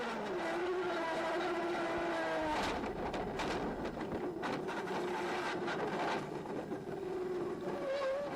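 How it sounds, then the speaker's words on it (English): Gerhard Berger's 1989 Ferrari Formula One car heard onboard approaching a chicane, a loud, high engine note that drops through downshifts, with a harsh, close roar throughout. "Let's ride with him in the cockpit as he approaches one of the chicanes."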